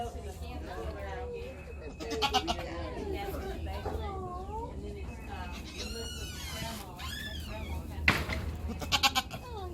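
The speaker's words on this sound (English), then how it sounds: "Oh yeah, it's a baby goat." A week-old baby goat bleats several times in short wavering cries at a Florida gator park, close by and mixed with people talking and children's voices around it.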